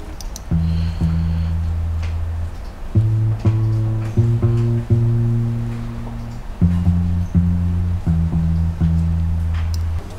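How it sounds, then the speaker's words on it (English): A bass riff built with the Liverpool bass instrument in GarageBand plays back as loud, deep, sustained notes in short repeating phrases, with clear gaps between groups and no talking. "I wanted to make my own bass riff, so I chose Liverpool bass"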